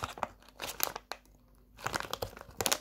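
Crinkling plastic jelly bean packet being handled and pulled at, with bursts of crackling separated by a brief quiet stretch, close to the microphone.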